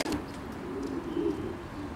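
A racing pigeon at a South Shields loft gives soft, low cooing, a couple of murmuring phrases close by over a quiet background, with no talk.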